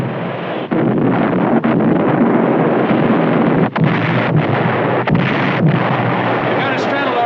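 Naval guns firing at a distant ship, with shells straddling the target: a run of heavy booming blasts over a constant roar, each report loud and abrupt, several in quick succession.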